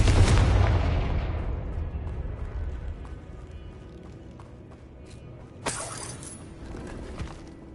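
A Confringo blasting spell from Hogwarts Legacy erupts in a loud opening explosion that rumbles and fades over several seconds, followed by a sharp shattering burst and a smaller impact, with no voice.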